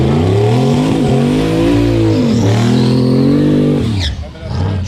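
Drag cars racing side by side at a raceway in a no-prep street-class event, one a Tesla, loud engines roaring and revving through gear changes up close before fading, with an announcer talking over them.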